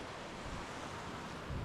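Mediterranean Sea waves wash onto a Greek beach as a steady, broad, faint hiss of surf mixed with wind buffeting the microphone, with no voices.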